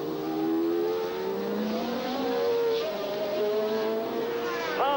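A turbocharged Ferrari Formula 1 car at the Dutch Grand Prix in Zandvoort howls past loudly, its engine note rising and falling continuously, with other racing cars following close behind.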